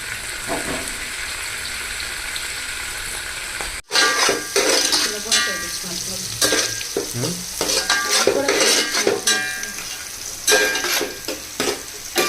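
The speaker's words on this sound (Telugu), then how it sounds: "ఇది గోల్డెన్ బ్రౌన్ కలర్ వచ్చే వరకు ఫ్రై చేసుకోవాలి. ఆనియన్స్ ఫ్రై అయిపోయింది." Onions fry in a pan until golden brown, a loud steady sizzle that drops out briefly, then returns with busy stirring, scraping and spoon clinks against the pan.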